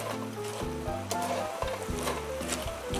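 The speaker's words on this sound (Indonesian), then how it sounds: "Saya masukkan cabai merah yang sudah digoreng ya teman semuanya. Diratakan lagi, diaduk-aduk." Fried red chilies stirred together with crispy tempeh and potato in a pan, a steady sizzle with scraping spatula strokes close by, no voices.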